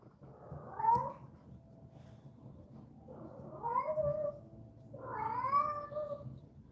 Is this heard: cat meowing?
yes